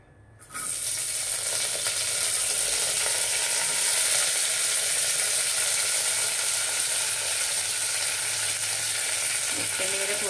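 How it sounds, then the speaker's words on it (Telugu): Onions, coriander and mint hit hot oil in a pan, starting with a sudden loud sizzle that settles into a steady, close crackling fry with no talking. "నూనె బాగా కాగినాకండి ఇగోండి ఉల్లిపాయలు, కొత్తిమీర, పుదీనా వేసుకుంటున్నా."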